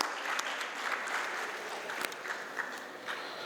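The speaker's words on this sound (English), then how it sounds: "We welcome you and give her a good round of applause." An audience applauds to welcome a speaker at a design confluence and showcase in Vijayawada, a continuous, fairly even patter of many hands with occasional sharper claps.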